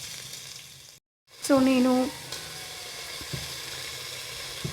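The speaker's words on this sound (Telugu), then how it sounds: "అల్లం అండ్ పచ్చిమిర్చి వచ్చేసి కొంచెం ఫ్రై అయింది కాబట్టి నేను బఠానీ యాడ్ చేసుకున్నాను." Ginger, green chili and peas fry in a pan for a Pongali prasadam, a steady close sizzle after a brief silence and a short tonal clatter, with a few words spoken over it.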